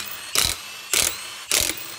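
Ratchet or wrench work while removing wheels from a Ford SVT Lightning truck frame, three evenly spaced short bursts of mechanical clicking, close and clear against a quiet background.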